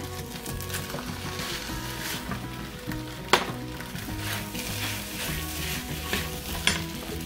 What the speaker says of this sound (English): Next, you're going to want to add in your bacon and your egg